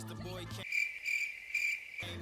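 Repeated high cricket chirps in quiet, evenly spaced pulses with silent gaps, occurring as a brief pause between spoken words in an office anecdote.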